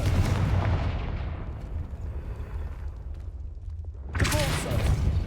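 A Confringo fire spell bursts in the Hogwarts Legacy video game: a loud, rumbling, booming blast that slowly fades, and a second sharp burst of sound follows near the end.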